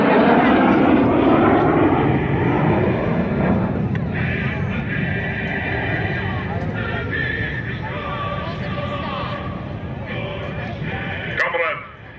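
A propeller aerobatic plane trails smoke through a turnaround at an outdoor airshow, its engine drone loud and steady overhead, with an announcer talking over it.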